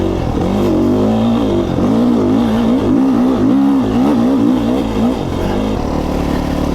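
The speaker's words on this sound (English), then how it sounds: "that's what it feels like to ride a motorcycle" A Beta 500RRS dirt bike engine revs hard while being ridden on a trail at Clay Peak, Idaho, its pitch rising and falling with the throttle, loud and close throughout with no talking.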